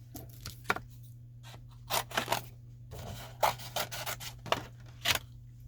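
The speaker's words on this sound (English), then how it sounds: "I'm going to cut this one out too" Scissors cutting out a small washi paper piece: a string of short, quiet snips and rubbing scrapes in irregular bursts over a steady low hum, close and soft.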